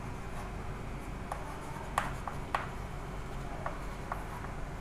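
Marker or pen writing out conditions for a class 12 maths solution, with faint scratchy strokes and a few sharp taps over a steady low background hiss.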